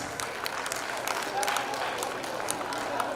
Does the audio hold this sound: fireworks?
no